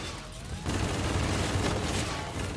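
The Auger Pulverizer LMG firing in the Infinite Warfare video game, a sudden sustained burst of rapid, heavy gunfire that kicks in after a short quiet lead-in and hammers on loudly to the end.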